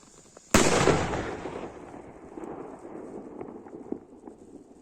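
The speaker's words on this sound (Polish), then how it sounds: "Największa rakieta z zestawu. Leci zdecydowanie najwyżej." The largest rocket from a Zombie Invasion fireworks set fires off with one sudden sharp whoosh-bang, then a fading hiss and distant crackles trail away outdoors.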